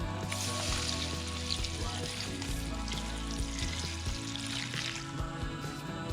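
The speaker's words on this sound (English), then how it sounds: "And then we're going to add water." Water pours steadily into a pot of Cajun boiled peanuts and crawfish-boil seasoning, a continuous close splashing rush that lasts throughout with no talking.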